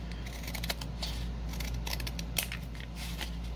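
Scissors snip a paper napkin for decoupage: a few quiet, crisp cuts close by over a steady low hum.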